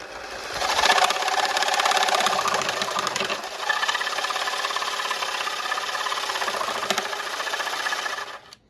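An auto scroller jigsaw cutting a scrap piece of cedar, a loud, steady buzzing rattle of the reciprocating blade close by that runs continuously for several seconds, then stops abruptly near the end.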